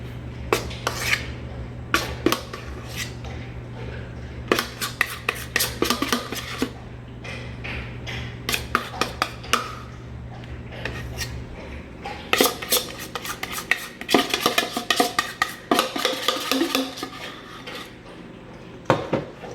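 A utensil scraping lemon ice box pie filling out of a bowl into a pie crust, repeated clinks and scrapes in irregular bursts, close and moderately loud, with a low steady hum underneath and no talking.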